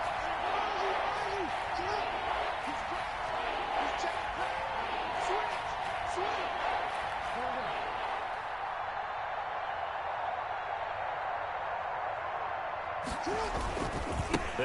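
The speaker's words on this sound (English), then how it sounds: "Here comes a big one as this crowd gets up making some noise." A football stadium crowd roars in a broad, steady wash of noise under a commentator's voice, with scattered thumps and a brief swell near the end.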